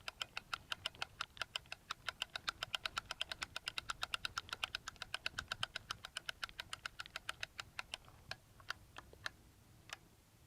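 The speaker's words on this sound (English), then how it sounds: "crank the crossbow. And you hear it clicking." A TenPoint Titan Xtreme crossbow being cocked with its crank gives a close, steady run of sharp ratchet clicks, evenly spaced and about forty in all, slowing to a few sparse clicks near the end.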